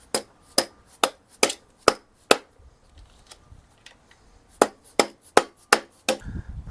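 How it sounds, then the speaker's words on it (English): A series of sharp, dull dead blow hammer blows on a 1973 Harley-Davidson Sportster in two bursts, a handful of evenly spaced strikes, a pause, then more rapid hits, close and fairly loud. "There's my dead blow hammer."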